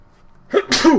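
A single sharp human sneeze close by, a quick intake then an explosive burst lasting about half a second, with no talking around it.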